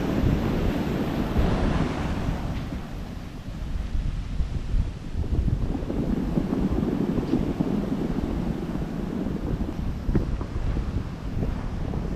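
Kallakkadal swell waves surge onto the shore in a steady, loud roar of breaking surf and rushing water, with wind buffeting the microphone throughout and no voices.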